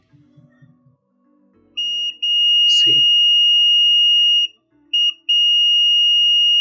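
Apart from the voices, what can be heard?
multimeter continuity buzzer beeping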